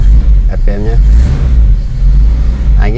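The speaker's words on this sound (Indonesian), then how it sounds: "Coba saya gas-gas, kayaknya enak-enak aja" A Toyota Kijang's engine hums and rises loudly as the throttle is pressed, with someone talking over the revving close by.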